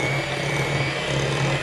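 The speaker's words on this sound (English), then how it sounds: "So I'm just going to use a hand mixer here" Hand mixer beating peanut butter cookie dough ingredients together in a bowl, a steady continuous motor whir with a constant hum, loud and close, running alone without talk.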